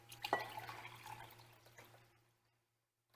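A cup of water is poured into keto bread dough made from nuts and seeds, a short close splashing rush that fades out over about two seconds, leaving a faint steady hum and then near silence.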